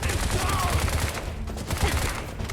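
Enemy machine gun fire in the action game Bright Memory crackles in dense, rapid bursts, loud and continuous, mixed with other game effects.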